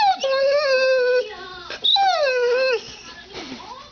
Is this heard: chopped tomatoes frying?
no